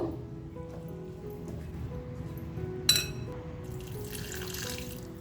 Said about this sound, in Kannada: ಇವಾಗ ಸ್ವಲ್ಪ ಸ್ವಲ್ಪನೇ ನೀರು ಹಾಕ್ಕೊಂಡು ಕಲಿಸ್ಕೊಳ್ಳೋಣ